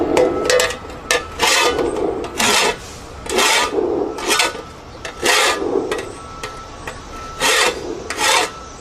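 A hand file rasps along the edge of a garden shovel to remove a burr, a close, steady series of about a dozen back-and-forth scraping strokes in regular rhythm, with no talk.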